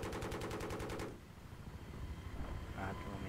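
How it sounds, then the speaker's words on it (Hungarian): Gunfire from a helicopter in the Battlefield 3 video game rattles in a rapid burst for about a second, then breaks off into a low rumbling engine drone with scattered faint noises. "Tehát lehet lövöldözni belőle"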